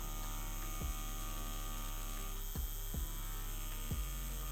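A tattoo machine buzzes while a needle works a traditional-style tattoo, giving a steady, close electric hum broken by a few brief clicks and dips, with no speech.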